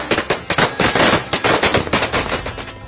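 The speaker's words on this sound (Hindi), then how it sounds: "पटाखों की आवाज इस जोश को दोगुना करती है" Rapid chains of firecrackers burst during Diwali celebrations, loud and close, with dense crackling pops rolling on for the full stretch and thinning slightly toward the end.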